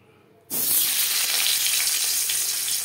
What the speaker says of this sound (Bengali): সবার প্রথমে আমি আলু ভেজে নেব।